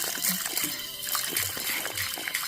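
Water gushes and splashes from an outdoor village tap, a continuous close, loud splatter with brief sloshing bursts, with faint voices nearby.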